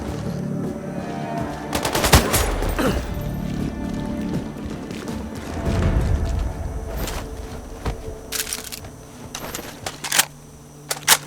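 Gunfire in the video game Sniper Ghost Warrior Contracts 2: bursts of automatic fire and scattered single shots crack out over several seconds, some close and sharp, others more distant, with a final cluster of loud shots near the end.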